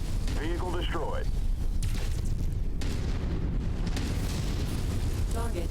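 A vehicle explodes in the MechWarrior 5 mech combat game, a heavy sustained rumbling blast with crackling debris that fills the whole stretch, loud and dense, while radio-style voices speak briefly over it.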